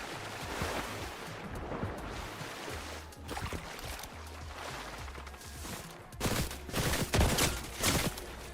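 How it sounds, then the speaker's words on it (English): Video game gunfire from several shooters, rapid overlapping bursts and shots crackling throughout, growing denser and louder toward the end, fairly quiet in the mix. "How many people shooting at me?"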